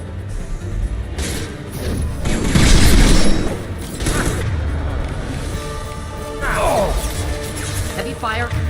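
Heavy weapons fire in the Mass Effect 2 video game, loud crashing blasts and booms with rattling impacts and mechanical clanks, a voice talking over the combat.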